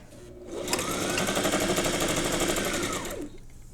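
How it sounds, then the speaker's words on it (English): Sewing machine stitching through several layers of fabric in a quilting square, a single close burst of rapid, even motor whir that speeds up, runs steadily for a few seconds, then slows and stops. "you're sewing through like 5 or 6 layers of fabric at this point"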